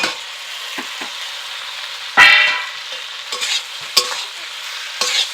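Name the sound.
stirring fried potatoes and pointed gourd into frying pan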